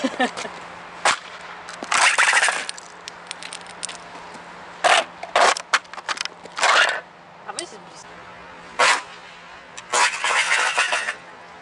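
A motorcycle helmet shell is pressed and cracks during a crash test. Sharp, loud cracks and scraping bursts come in irregular clusters, separated by quiet gaps with some nearby talk.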